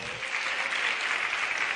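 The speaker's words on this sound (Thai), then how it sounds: "ถ้าเชื่อผมปรบมือให้ผมอีกหน่อยนะครับ" Steady, dense applause from an audience at a business seminar, sustained at an even level for about two seconds with no voices over it.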